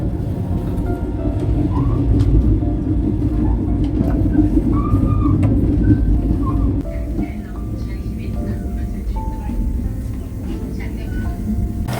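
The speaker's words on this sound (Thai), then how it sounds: "รถไฟจะจอดสถานีหมวเอนแล้วค่ะ" A low rumbling Thai first-class sleeper express train, a CNR air-conditioned sleeper, rolls along with a steady mechanical drone as it pulls into a station, while a voice talks over it throughout.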